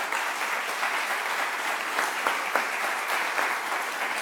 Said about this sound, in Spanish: pedirle un fuerte aplauso de parte de ustedes